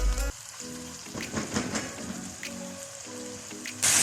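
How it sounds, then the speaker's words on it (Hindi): Chicken pieces for jalfrezi are frying in a hot pan. The crackling sizzle is close and steady, with brief stirring scrapes and some faint music or tonal sound behind it. "तकरीबन हम इसको 2 से 3 मिनट तक भूनेंगे"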